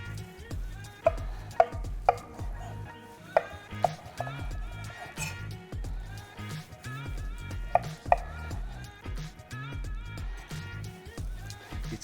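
A knife carves a medium-done steak on a chopping board, leaving a scattering of sharp, irregular taps and knocks against the wood, close and fairly quiet, with a few louder hits among the softer cuts.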